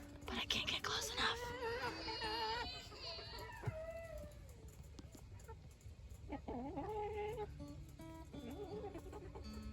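Backyard chickens clucking and calling close by, with one bird thought to be a rooster among them; repeated squawks and clucks come in bursts over soft outdoor background noise, and a person talks briefly between them.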